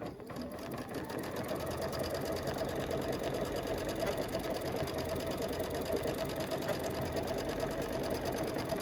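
A Luminaire or Solaris sewing machine stitching an edge-to-edge quilting pattern, humming in a steady, fast, even whir that holds for several seconds, near and alone.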